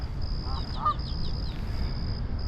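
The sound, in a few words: Canada geese honking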